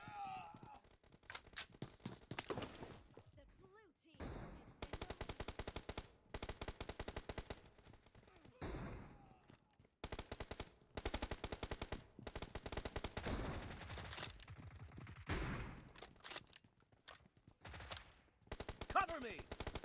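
Automatic gunfire in the mobile battle game PUBG Mobile rattles out in rapid bursts with brief silences between them, with game voice callouts heard faintly at times.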